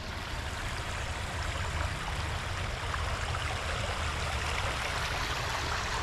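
A muddy river rushes steadily in a broad, unbroken wash of water noise, loud and close, with no voices over it.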